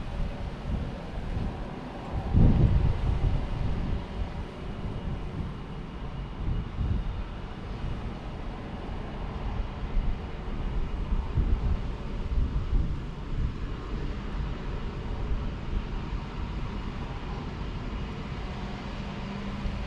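Wind blowing on the River Humber shore, a steady low rumble buffeting the microphone, with a brief louder gust early on and continuous roar throughout.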